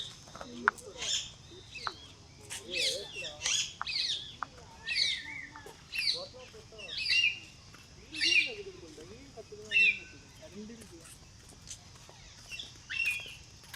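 A parrot sitting in a tree at Guindy National Park gives a series of repeated harsh calls, about one every second or so, at moderate distance. A faint low murmur lies underneath.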